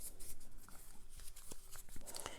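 Uno cards being shuffled by hand, a quiet run of papery flicks and soft taps with brief sharper snaps, close and low in level with no talking.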